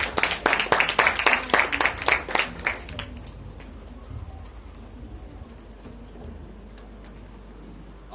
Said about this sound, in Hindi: अन्नू भैया के लिए जोरदार तालियां।